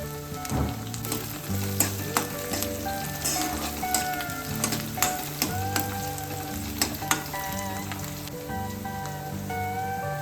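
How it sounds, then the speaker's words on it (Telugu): Curry leaves sizzle and crackle in hot oil for an Andhra-style potato tomato curry, a steady close frying hiss with sharp pops and spits scattered throughout, no voices. "తర్వాత కొంచెం కరివేపాకు వేసింది."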